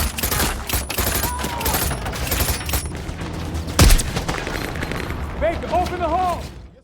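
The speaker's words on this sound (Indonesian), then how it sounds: "Saat yang lainnya sedang baku tembak" Dense gunfire fills a film battle scene, with rapid overlapping bursts and scattered heavy booms under ongoing music and effects, followed by a voice speaking in the later part.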